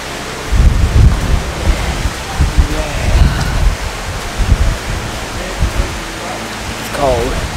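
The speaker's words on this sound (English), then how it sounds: "That wind is freezing." Cold wind gusting outdoors among old Gothic buildings in a German town, a steady rumbling roar with buffeting low gusts against the microphone, broken by a brief higher tonal sound near the end.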